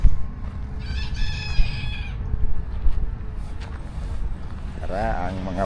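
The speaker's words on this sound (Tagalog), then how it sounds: "Yara ang mga manok po. Tapos may chicken." Chickens cluck and a rooster-like call rises nearby, amid a busy outdoor murmur with people talking in the background.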